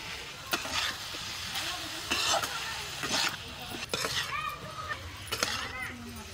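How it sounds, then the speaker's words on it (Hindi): Sanai flowers with salt are stir-fried in a pan, with a soft sizzle under repeated scraping and clinking strokes of a spatula. A voice talks over the cooking. "एक से दो मिनट फूल के साथ भून देंगे।"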